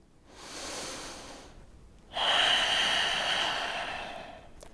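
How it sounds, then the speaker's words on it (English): Two long, slow breaths during a yoga chair pose, a soft inhale then a stronger, airy exhale close to the mic, with no talking. "One more breath in."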